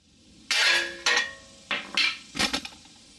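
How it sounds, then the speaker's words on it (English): A small hammer strikes a tie rod end on a 2007 Toyota Highlander Hybrid, giving five or six sharp metallic taps in short, uneven bursts, close and fairly loud with no talking. "just get a little hammer, kind of tap this one out, and it should drop right off"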